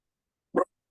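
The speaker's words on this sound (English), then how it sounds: "Sorry, my dog is barking." One short, close dog bark comes through alone against silence.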